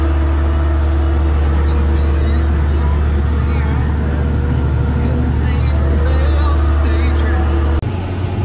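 A MacDon 9200 swather runs in a hay field, its engine a loud, steady low drone that holds throughout before dropping off near the end.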